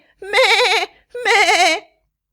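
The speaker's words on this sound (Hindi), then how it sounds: "अपनी मां को देखकर बकरी का बच्चा जोर जोर से चिल्लाने लगा, मैं।" A baby goat lets out two loud, wavering bleats, each lasting over half a second, separated by a brief pause, with no other sound around them.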